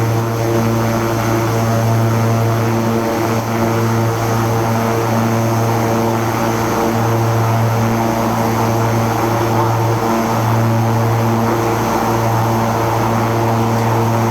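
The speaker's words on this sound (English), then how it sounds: "I'll show you a replay of the takeoff" A Beechcraft King Air 350 turboprop in the X-Plane 11 flight simulator, with loud steady propeller drone and engine whine at takeoff power, humming continuously with a slight pulsing throughout and no talk.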